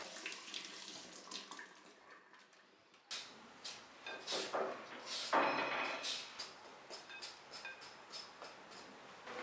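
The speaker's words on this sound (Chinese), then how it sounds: "土豆清洗干净后去皮" Tap water runs into a sink while potatoes are washed, a soft splashing flow broken by intermittent louder splashes and handling knocks, fairly close and without speech.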